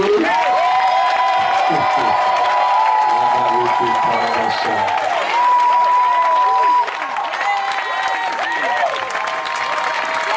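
A church congregation at a French-speaking Sunday service applauds and cheers the Lord: sustained loud clapping with scattered shouts and whoops, under a strong sung or shouted voice, continuing throughout.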